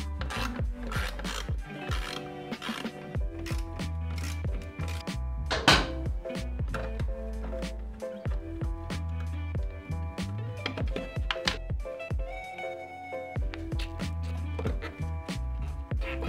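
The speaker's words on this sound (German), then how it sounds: "Dazu lösen wir im ersten Schritt die Schrauben für die Fußbremsmechanik." Screws being loosened on the seized foot brake mechanism of a Vespa PK50 S scooter during restoration: close, continuous rasping and ticking metal-on-metal strokes with sharp clicks throughout, over a steady tonal background, no talking.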